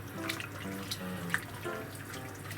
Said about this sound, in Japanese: そしたらお湯捨てときます。